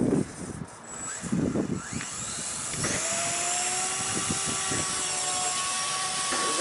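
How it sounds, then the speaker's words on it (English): A 3D-printed RC helicopter, now heavier with printed parts, spins up and flies in light outdoor wind, its rotor and motor whine rising into a steady, high buzzing drone after a few brief bursts at the start. "Clear helicopter."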